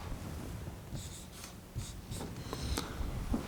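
A pen or pencil scratches out a math equation by hand on paper, faint close strokes and short scribbles over a soft background hiss.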